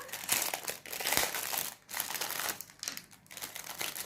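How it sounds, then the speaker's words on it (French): Crinkly plastic packaging of a diamond painting toolkit is torn and crumpled open close by, with dense rustling bursts and brief pauses. "Là, je vais ouvrir le toolkit."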